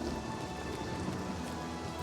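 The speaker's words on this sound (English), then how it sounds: "it would be prettier if it weren't raining" Steady rain pours down in the Oblivion Remastered game world, a dense, even hiss of drops on surfaces with no break across the moment and no voices.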